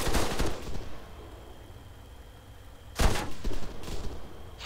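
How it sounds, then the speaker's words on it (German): Gunfire in the video game Altis Life: two sharp bursts of rapid shots, one at the start and another about three seconds later, with a quieter stretch between them and no talking. "Wir werden beschossen."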